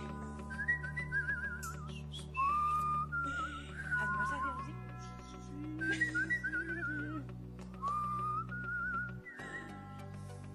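A person whistles a melodic tune on a Spanish television identity guessing game show, clear tremolo-laden phrases rising and falling over a sustained musical backing, with no talking.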